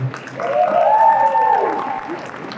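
At a Danny Phantom panel at Nostalgia Con Anaheim 2025, the convention crowd gives brief, moderately loud clapping, with a rising and falling cheer or whoop riding over it.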